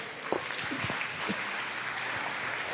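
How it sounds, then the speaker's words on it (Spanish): A church congregation applauds steadily during a sermon, a dense wash of clapping from many hands that continues throughout. "Denle un aplauso a nuestro Dios"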